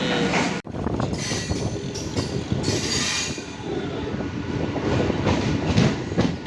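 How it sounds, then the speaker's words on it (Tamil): A train arriving on the track between Bangalore and Tumkur rumbles with a continuous heavy roar, clattering wheels and occasional high squeals, loud and close, no talking. "நம்ம பயணிக்கக்கூடிய ட்ரெயின் வந்து ட்ராக்கில் வந்துட்டுருக்கு"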